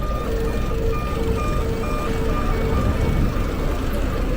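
Repeating electronic warning tone from a car park exit on a Tokyo street at night, steady evenly spaced beeps sounding over constant traffic and street noise.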